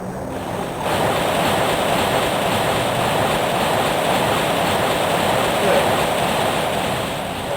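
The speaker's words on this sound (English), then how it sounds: "This water's kind of loud, isn't it?" Rushing water roars loudly and steadily in the PSX game King's Field 2, a dense continuous wash that swells in after a quieter first second and holds unbroken to the end.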